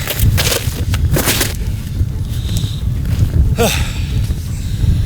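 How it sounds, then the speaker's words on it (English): Crunching footsteps through hard, icy frozen snow while coyote hunting, steady and close, with a few brief gusty rustles and a faint snort partway through. "Snow is tough to walk in."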